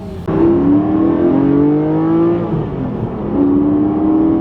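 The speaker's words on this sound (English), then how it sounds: "this is open exhausts and it sounds okay" A Porsche 718 flat-six on open exhaust revs repeatedly, its engine note climbing and falling in several close, loud pulls with no talk over it.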